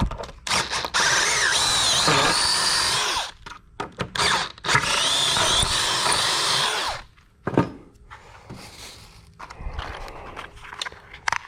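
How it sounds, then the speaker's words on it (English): A power drill bores out holes in a boat trailer bunk with loud close whining bursts, each running a few seconds with a spin-up and wind-down, separated by short gaps. "So I drill these other ones out."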